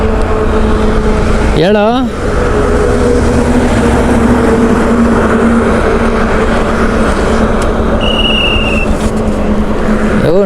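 Honda SP125 motorbike engine running steadily throughout, a loud, close, continuous hum with a brief horn-like warble near the start and a short whine later, while someone talks over it.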